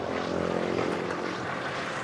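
A 2009 Toyota Fortuner with a 2.7 engine idles smoothly, giving a steady, even hum close by for a couple of seconds with no talk.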